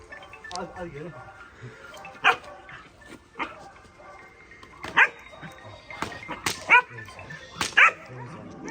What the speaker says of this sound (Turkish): Aferin akıllı köpek Ayşe.